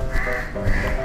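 A crow caws twice, short harsh calls close by and fairly loud, with no voices over them.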